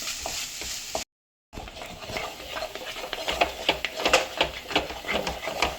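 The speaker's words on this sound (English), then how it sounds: "Now we are frying it." Gujiya filling being stirred and fried in a pan gives a steady soft sizzle with repeated scraping strokes of a utensil, close and fairly quiet, broken by a brief silent gap near the start.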